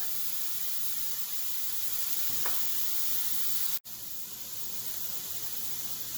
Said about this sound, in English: we're going to let it cook, we're going to let it brown, we're going to let it char